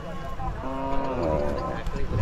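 Cattle moo at the Sri Revana Siddeswara cattle fair 2024 in Horti, a drawn-out, fairly loud lowing call heard close by over a busy background of fairground murmur and voices.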